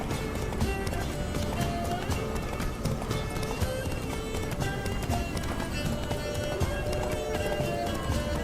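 Roach, Geralt's horse in the video game The Witcher 3, galloping with rhythmic clip-clop hoofbeats under a busy mix of game music and ambience, steady and loud throughout.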